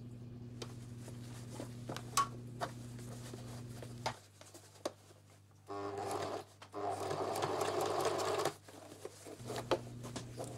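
A sewing machine stitches a bolero jacket in short bursts, its motor humming steadily, pausing, then running again, with soft fabric handling and faint rustles between runs, close and quiet.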